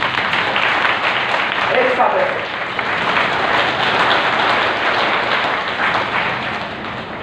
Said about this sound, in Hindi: आशीर्वाद ताली बजा करके